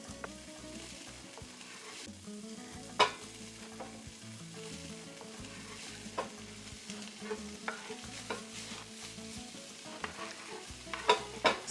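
Meat dry-frying in a skillet over low heat with no oil for machaca, a soft steady sizzle with intermittent scraping and clicks of a utensil, fairly quiet throughout.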